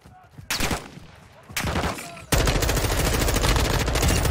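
M4 rifle fire in Warzone 2.0 DMZ on Ashika Island, short loud bursts that break into a sustained rapid stream of shots, close and dense.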